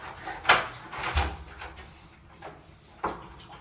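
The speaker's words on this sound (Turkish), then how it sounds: "Kapı çaldı." A door at a house sounds with a few short knocks or thuds, sparse and moderately close, separated by quiet gaps with faint room background.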